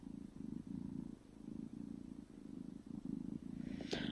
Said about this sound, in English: How can she purr while she's biting me?